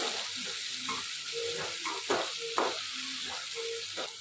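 Onion and tomato fry together in a pan for chicken liver sukka, a soft steady sizzle with occasional spoon stirs and scrapes, close and quiet without speech.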